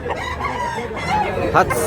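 A Kabyara rooster crows at a busy rooster market in Tabunok, Talisay, Cebu, one loud close crow with clucking and crowd noise around it.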